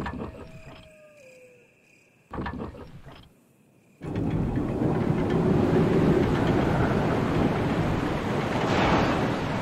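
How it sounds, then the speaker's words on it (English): A mechanical crank turning in the Resident Evil video game, heard as a short whirring and grinding after some faint tones, followed by a loud steady rush of draining water. "There's a crank, drain the water."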